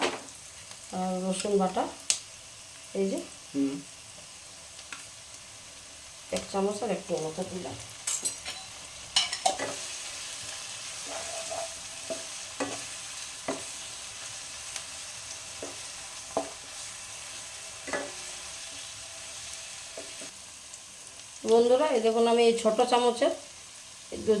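Onion and ginger sizzle steadily in a hot pan for dhaba-style paneer masala, with frequent scraping and stirring strokes over the frying; voices talk intermittently above the cooking.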